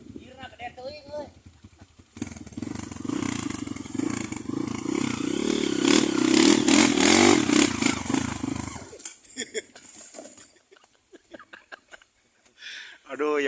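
Motorcycle engine revving up loudly for several seconds, rising and holding near before cutting off, with clattering and scraping around it and people talking before and after.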